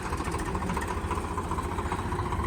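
A heavy tractor engine drones loudly and continuously nearby, a steady rumbling chug under strain with no pauses as it pulls.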